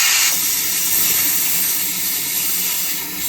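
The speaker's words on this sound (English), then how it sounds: "just giving it a little blow there with the compressed air just to make sure there wasn't any metal filings" Compressed air blowing metal filings out of the exhaust flange of a 2009-2013 Toyota Matrix catalytic converter, a loud continuous hiss that lasts about three seconds.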